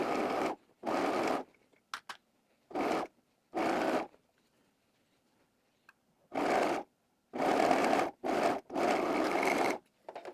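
A serger stitches the side seam of a wrap dress in a series of loud, close bursts, each running a second or so, separated by short silent pauses.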